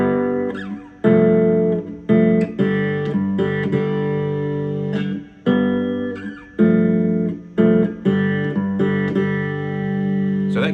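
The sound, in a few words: three-string cigar box guitar riff in G played straight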